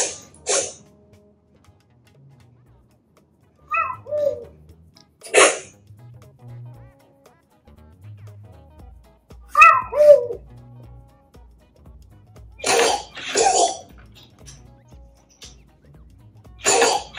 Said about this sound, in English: he is sneezing.